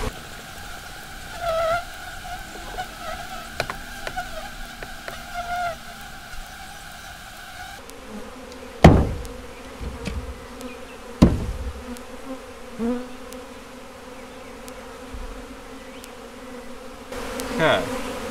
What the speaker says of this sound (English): Still a few bees in there, but they will work their way back up